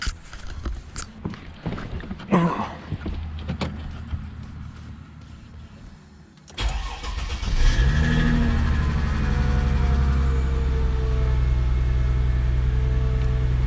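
A Chrysler Crossfire fitted with a Simons exhaust cranks and fires up, then settles into a loud, deep, steady cold-start idle after some faint earlier handling sounds.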